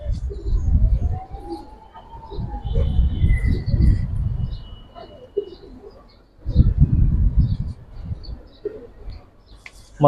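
Giribaz pigeons for sale in Old Dhaka coo in low, repeated throaty bursts close by, with faint chirps and people talking around them.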